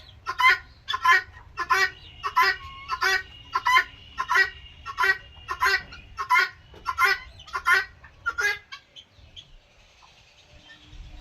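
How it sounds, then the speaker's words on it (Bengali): Chinese chickens at a plant nursery give a run of about a dozen loud, evenly spaced honking calls close by. The calls stop near the end and leave quiet background. "চীনা মুরগি, চীনা।"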